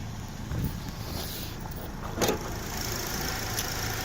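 A 2.4 liter Ecotec car engine idles smoothly and steadily at close range, a low even hum with a couple of brief clicks or knocks on top.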